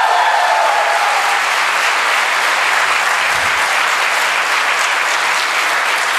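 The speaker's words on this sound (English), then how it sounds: "Class of 18, can we please have a round of applause for them?" A graduation-day audience at a campus valedictory ceremony breaks into sustained, dense applause, a loud and steady wash of clapping from many hands that holds evenly for the whole stretch.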